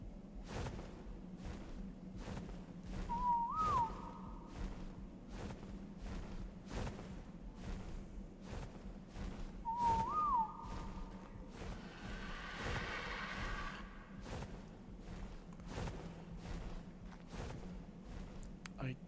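In the Ark video game, the attack target whistle sounds twice as a short, rising whistled tone, several seconds apart. It plays under steady game noise and rhythmic thumps.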